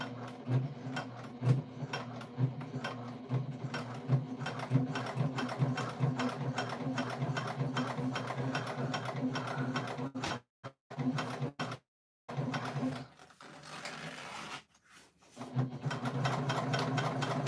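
Sewing machine stitching steadily at a fast, even rhythm, close and moderately loud, with a few brief pauses where it stops before starting again.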